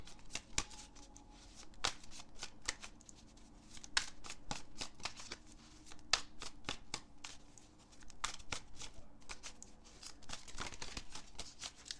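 Tarot cards being shuffled by hand, a steady run of crisp riffling snaps and soft slides, close and fairly quiet, with no talking.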